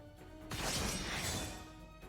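A glassy shattering effect from the card game Shadowverse, a single loud crash-like burst swelling and then fading over about a second and a half, heard alone.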